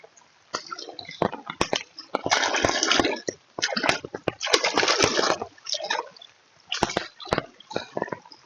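Water gushes and splashes in irregular bursts, rushing hard under high pressure, with sharp splattering hits and brief lulls between surges.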